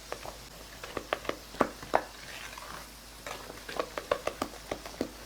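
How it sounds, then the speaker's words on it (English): An Oreo cobbler topping with vanilla stirred in a bowl, with a series of clacking taps and scrapes of a utensil in irregular bursts, close and fairly quiet. "I'm just going to mix this around."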